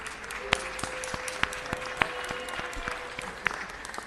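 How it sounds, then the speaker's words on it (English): Light applause from a small audience at a city council meeting, scattered claps rising and falling for a few seconds with no voices over it. "Give him a round of applause, please."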